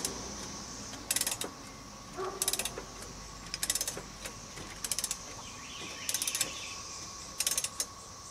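A harmonic balancer is drawn off a 1999 Chevy 5.7 L engine with a puller, giving repeated bursts of quick metallic ratcheting clicks about once a second, each short and crisp, over a faint steady hum.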